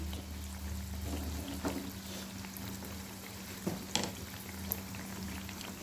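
Malpua batter frying in oil in a non-stick kadai over a medium flame, giving a steady low bubbling sizzle throughout, with a few brief clinks near the end.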